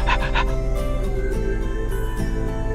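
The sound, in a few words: dog panting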